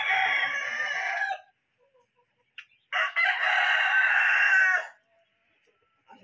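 A rooster crows loudly nearby, twice, separated by a brief pause, with a faint cluck in between.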